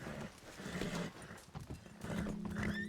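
Horse in the Red Dead game on a WildRP server, neighing and whinnying with clip-clopping hooves, fairly close and loud, with some game ambience and no talk.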